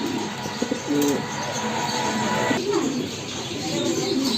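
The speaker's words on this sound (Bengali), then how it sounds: "এটা মন্ডিয়ান নর কবুতর" A male Mondian pigeon coos in repeated soft, throaty phrases close by at a pigeon seller's place on a rainy day, with faint background noise.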